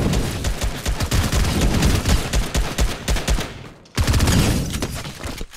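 A drum gun fires in Fortnite as long, fast automatic bursts of loud, close shots, cutting out briefly before another sustained burst resumes.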